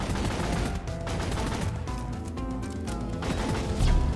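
Pistol gunfire in the co-op mining shooter Deep Rock Galactic, a steady run of loud, sharp shots mixed with crashing impacts and battle noise, continuing throughout without speech.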